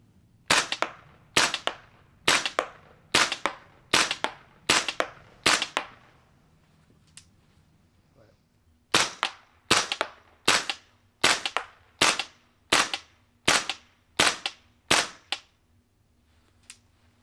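Unit4 training rifles fire marking and non-marking rounds at cardboard IPSC targets about 25 yards away, a sharp, evenly spaced run of loud cracks, a brief pause, then a second steady string of shots.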